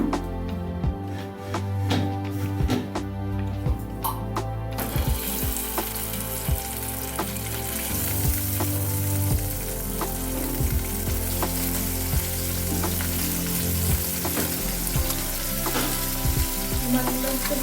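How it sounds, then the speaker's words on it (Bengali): Small puti fish sizzle steadily in hot oil, a loud continuous frying crackle with intermittent pops and clatter running throughout, with no one speaking. "তেলটা গরম হয়ে গেছে, এবার পুঁটি মাছগুলো একটা একটা করে ছেড়ে দেবো।"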